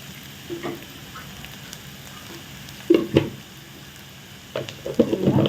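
Vegetables sauté in a pan for a chapati lunch dish, a quiet sizzle broken by a few bursts of scraping stirring, with louder clusters near the middle and end.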